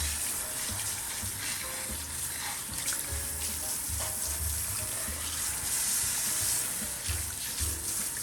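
Water running steadily at a salon shampoo sink as hair is rinsed, a close, continuous splashing hiss with uneven gurgling pulses from the flow over the head.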